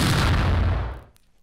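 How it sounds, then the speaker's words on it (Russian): A single heavy dynamite blast in the destruction game Room Rampage, a loud close boom that hits at once and then rumbles away to near silence within about a second. "Взрыв."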